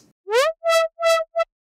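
A dry Serum saw-wave synth with no effects plays four short, bright, buzzy notes in quick succession. The first note slides upward in pitch, and near silence separates each note from the next.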